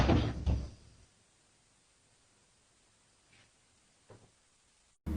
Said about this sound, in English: it seems like the latch might actually close and then open again